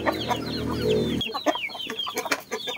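Native Joloano chickens being fed papaya cluck and chatter nearby, a steady engine-like drone underneath at first, then lively overlapping clucks alone once it cuts off.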